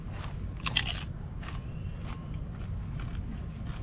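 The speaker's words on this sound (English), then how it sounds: "Chips are so crispy." Crispy tortilla chips are bitten and chewed up close, giving a few sharp crunches followed by quieter, irregular crackling chews over low background noise.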